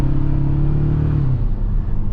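A 2026 Toyota Tacoma TRD Sport 4x4 pickup with its four-cylinder engine pulling under acceleration, a steady loud droning rumble with a rising tone heard from inside the cab, no talking.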